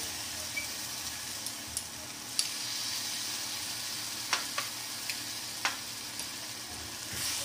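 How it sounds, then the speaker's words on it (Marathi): Garlic ginger paste sizzles faintly in a pan as cucumber curry is cooked, a steady soft frying hiss broken by a few light clicks and taps of stirring. "आपण लसूण अद्रकची पेस्ट घेतली होती ती टाकूया"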